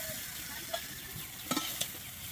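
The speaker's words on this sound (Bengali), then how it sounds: "মটরশুঁটি আর ক্যাপসিকামটা কিন্তু খুব ভালোভাবে এখানে আবারও মিশিয়ে ভেজে নেব" Peas, capsicum and mixed vegetables fry in a pan with a constant close sizzle, broken by a few quick scrapes and taps of a spatula stirring them.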